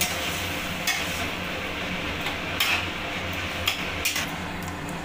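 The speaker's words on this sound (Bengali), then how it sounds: "এখন ভালো করে নাড়িয়ে নেব।" Soaked chickpeas being stirred in a hot pan for a vegetarian kochu shak (taro greens) dish, with a steady sizzle of frying and occasional scraping and clinks of a utensil against the pan.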